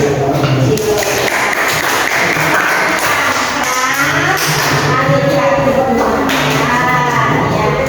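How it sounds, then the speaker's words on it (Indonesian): Classroom applause from a group of students during a lesson, a steady clatter of clapping lasting several seconds, close and fairly loud, with some voices mixed in. "Tepuk tangan Mas."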